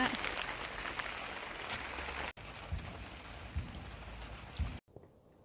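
Steady rain pattering down outdoors in a snowy, sunny-mixed setting near a charcoal grill for meatballs, a dense continuous hiss broken by a couple of sudden cutoffs, with faint thumps underneath.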